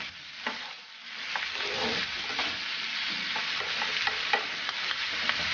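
Chicken gizzards with garlic frying in a pan while being mixed, a close, continuous sizzle with frequent spatula scrapes and clicks throughout.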